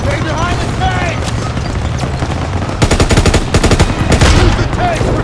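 Sustained MG-42 machine gun and tank gunfire from a Call of Duty WWII battle rattles in dense rapid bursts, loud and close, with heavier booms and a voice calling out over the din.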